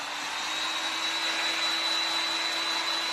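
A blow dryer runs steadily at close range, drying fresh paint on a painted craft statue, with a constant whooshing airflow and a thin whine throughout and no speech.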